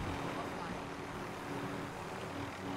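A helicopter in Call of Duty Warzone gives off a steady, dense rotor and engine roar that holds evenly throughout without change, continuous and fairly close.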